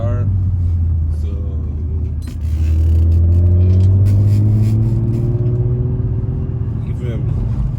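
An Infiniti G35 pulls hard on a nighttime mountain touge drive. Its deep intake and exhaust drone loudly and rises as the engine revs up, dips briefly, then holds a strong, steady roar.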